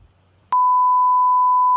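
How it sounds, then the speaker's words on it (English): A loud, steady single-pitch censor bleep that cuts in abruptly after a brief quiet moment and holds for over a second, covering a spoken word. "Yeah, bleep that out."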